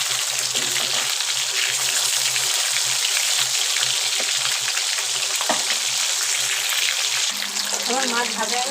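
Flipped fish keeps frying in hot oil, a steady close sizzle with a few light knocks and a short shift in tone near the end.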